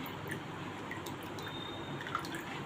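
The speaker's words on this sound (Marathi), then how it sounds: "सर्व पाणी आपण गाळून घेणार आहोत" Water for Konkan solkadhi drips and trickles steadily through a strainer, faint and close, with small scattered droplet sounds over a soft continuous wash.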